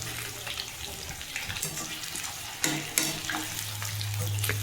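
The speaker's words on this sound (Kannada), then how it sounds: "ಇವಾಗ ನೋಡಿ 2 ಸೈಡ್ ನೀಟಾಗಿ ಫ್ರೈ ಮಾಡ್ಕೊಳ್ಳೋಣ." Chicken pieces fry on both sides in hot oil in a pan for egg chicken fried rice, a close, constant crackling sizzle with a few sharper pops and scrapes partway through.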